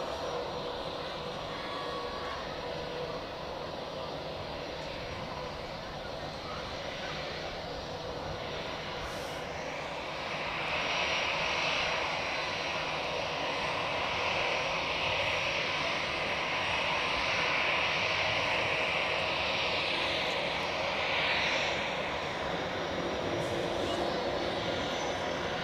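Airliners taxi at Zurich Airport during rush hour at Terminal B, their engines a steady, continuous roar that swells slightly louder partway through and holds without a break.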